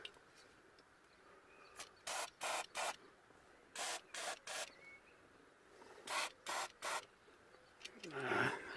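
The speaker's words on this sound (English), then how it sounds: "And now, with a little bit of contact cleaner," Contact cleaner sprays onto the horn parts of a Peugeot 307 during a repair, in three groups of short, sharp hissing bursts, close and fairly loud against a quiet background.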